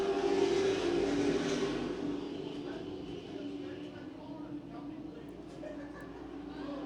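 Race cars roar around the oval at Ace Speedway during kids night, engines droning steadily under an announcer's continuous commentary, with the pack's sound fading slightly as they move away.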